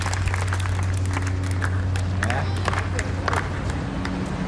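Spectators applaud at a 2020 Dubai women's tennis match, a steady wash of clapping and crowd noise running beneath someone commentator speaking throughout.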